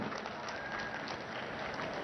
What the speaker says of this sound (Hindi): जोरदार तालियां बजाएं मित्रों